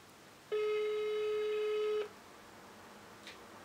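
A mobile phone on speaker plays a single steady ringback tone while placing a call. The tone lasts about one and a half seconds, then the line goes quiet.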